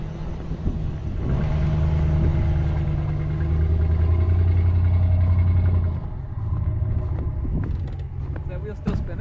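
A RAM 1500 4x4 pickup with an open differential, stuck in snow, revs steadily as one wheel spins, a loud continuous engine rumble with a rising drone in the middle that eases off near the end.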